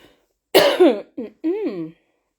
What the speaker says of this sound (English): Excuse my little tickly cough.